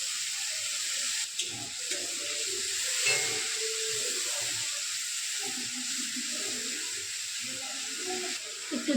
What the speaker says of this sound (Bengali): জল দিয়ে ভালো করে কষিয়ে নেব।